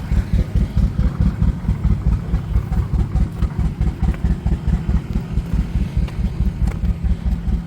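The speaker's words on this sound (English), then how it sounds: "There goes the tractor." An old tractor engine chugs at Albany Pioneer Days, a loud, close, low thumping idle with an even rapid pulse that carries on steadily without voices.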